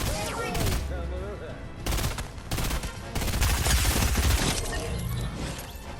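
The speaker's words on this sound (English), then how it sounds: "someone shooting at Marsh" Dense, sustained gunfire from a Fortnite squads match: rapid overlapping bursts and shots crackling loud throughout, with game effects and brief voice-like tones mixed in, the barrage dipping only briefly between volleys.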